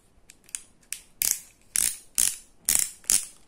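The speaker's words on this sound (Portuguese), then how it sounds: "Eles têm essa chave aqui, ó. Que é uma chave com catraca também." A ratcheting wrench from a hand tool set clicks close up, faint ticks giving way to five louder rhythmic bursts of rapid pawl clicking.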